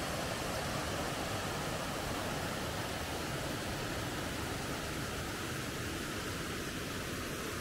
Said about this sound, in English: Whoa, look at the waterfall.